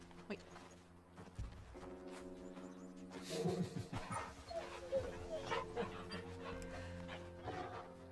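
In Final Fantasy XVI, a dog barks and whimpers in short, close bursts over a steady game music bed, with footsteps-like clops mixed in.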